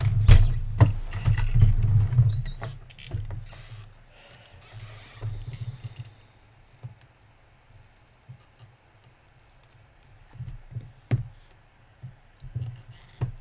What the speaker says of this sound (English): So they're both going to shuffle.